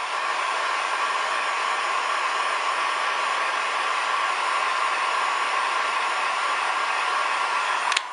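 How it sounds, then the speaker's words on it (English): A heat gun heating heat-shrink tubing on subwoofer wires gives a loud, constant blowing hiss with a steady whine, running unbroken until a click at the end. "I just use a heat gun. Just heat it up evenly"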